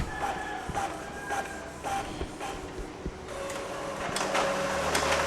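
An inkjet printer, repaired after paper kept stopping halfway and its red light stayed on, prints with rhythmic mechanical clicks and shuffles as the paper feeds through. The clatter is close and grows busier toward the end.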